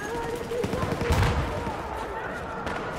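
M60 machine gun firing in Battlefield 4 gameplay, a brief burst of game gunfire mixed with other battle noise and a voice talking over it.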